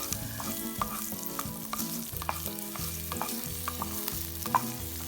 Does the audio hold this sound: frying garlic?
yes